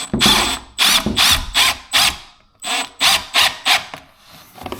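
A power driver sends a screw into rustic wooden window trim on a holiday home build, in a loud, close series of short whirring bursts with brief gaps, about ten pulses in all.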